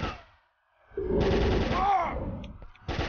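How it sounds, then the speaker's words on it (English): Incoming gunfire hits the player in the zombie survival game Worst Case Z: a brief lull gives way to a sustained, rattling volley of shots, a short pause, then another sharp burst at the end. "Where was I getting shot from?"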